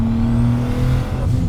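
Toyota Supra MK3 with a boosted 2JZ turbo engine making about 876 wheel horsepower, a loud steady engine drone with rising turbo whir as it spools up, heard up close with no talking.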